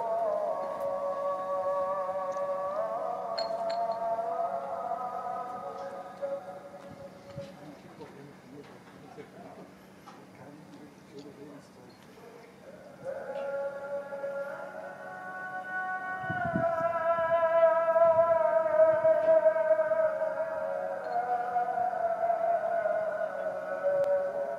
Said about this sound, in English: you can hear the call to prayer in the background